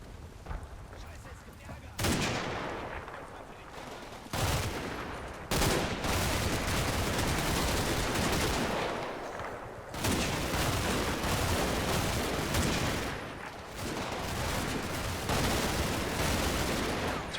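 Troops opening fire in the Combat Mission wargame, a sustained roar of massed gunfire and rumbling blasts that swells in waves, dense and loud with no pauses.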